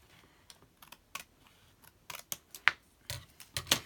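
Sharp scissor snips trimming paper while making a handmade envelope, a run of crisp close cuts coming in irregular bursts that grow quicker and louder toward the end.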